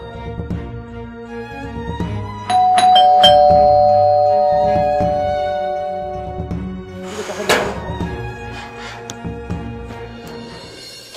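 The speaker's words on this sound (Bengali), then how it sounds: "কতক্ষণ ধরে আমি কলিং বেল চাপছি" A household electric doorbell rings repeatedly, its tonal chimes sounding in several bursts with a few dull knocks in between, close and fairly loud with no voices.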